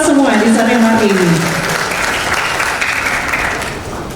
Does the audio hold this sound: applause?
yes